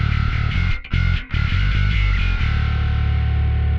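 An electric guitar runs through a Darkglass Microtubes X7 multiband distortion pedal, giving a loud, sustained, grinding chord with heavy low end and two brief cut-offs early on before the tone rings on.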